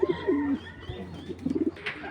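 A racing pigeon gives soft, low cooing calls, a few short rolling coos close by against quiet background noise.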